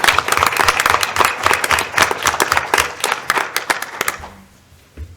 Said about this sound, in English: So I'd like to give everybody a round of applause.